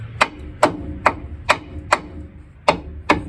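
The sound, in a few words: hammer striking metal part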